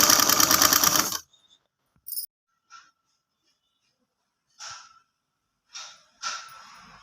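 Sewing machine stitching a fall onto a saree: a loud, steady whirring run of rapid stitches for about a second, then it stops, leaving quiet with a few soft breaths and small handling noises.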